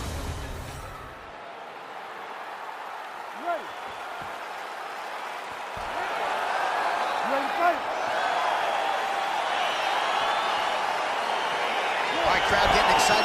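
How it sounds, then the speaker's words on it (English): A crowd cheers at a fight in the video game UFC 4, a broad steady roar that swells louder partway through, with a commentator's voice over it. "Crowd getting excited as this fight gets underway"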